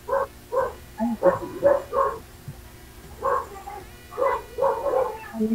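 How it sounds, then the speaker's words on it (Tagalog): Dogs bark out on a street in short, repeated bursts, several close together, then a pause, then another rapid volley, fairly loud over a faint steady hum. "Mga aso ko doon sa kalsada."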